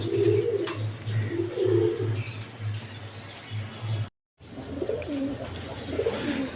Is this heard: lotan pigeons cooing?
yes